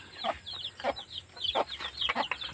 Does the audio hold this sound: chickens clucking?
yes